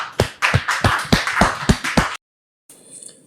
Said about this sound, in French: Est-ce qu'on peut dire merci au Seigneur par des acclamations bien nourries